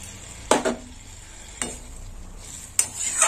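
Water goes into a pan of frying vegetable stalks and potatoes, raising three short, close bursts of sizzling over a quiet simmer.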